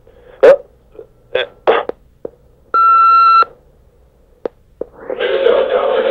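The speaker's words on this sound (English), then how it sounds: "that beep was just" One steady electronic beep lasts under a second. Short clicks and thumps come before it, and a burst of rushing noise follows.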